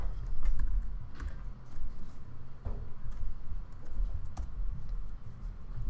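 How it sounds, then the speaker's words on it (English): Computer keyboard typing with irregular bursts of close, light key clicks over a quiet room, steady patter with brief pauses between runs. "Am I typing wrong?"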